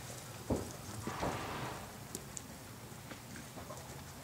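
A horse's hooves striking the ground at a training clinic while being ridden, a few soft, uneven thuds over a faint, steady background hiss.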